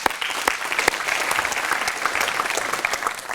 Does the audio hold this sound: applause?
yes